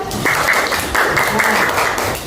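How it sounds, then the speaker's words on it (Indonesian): An audience applauds a student at an Islamic studies session, a short, dense round of clapping up close, with a voice humming over it. "Beri tepuk tangan pada Rehan."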